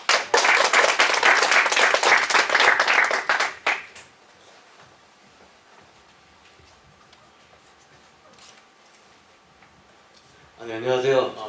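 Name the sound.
audience applause welcoming a manager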